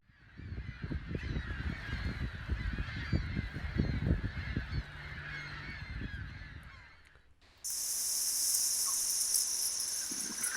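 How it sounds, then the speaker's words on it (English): A crowd of seagulls calls in dense, overlapping squawks for several seconds, then the sound cuts abruptly to a steady hiss. "There's this one with the sound of the seagulls"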